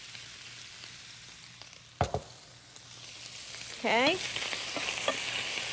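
Cauliflower rice hits hot oil in a pan with a sudden sizzle, then settles into a steady, fairly quiet frying hiss with a few stirring scrapes; a voice briefly speaks.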